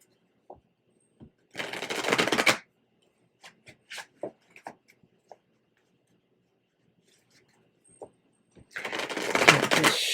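Tarot cards being shuffled close up, two bursts of riffling with scattered soft taps and clicks of handling in between, otherwise quiet.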